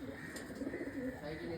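Pigeons at a racing pigeon loft in Sri Lanka give soft, low, throaty coos close by, with faint chirps and a voice murmuring underneath.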